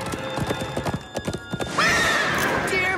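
Horse hooves clip-clop in a steady rhythm in a cartoon scene, then a loud, bright neigh rings out near the end, with faint voice-like sound under it.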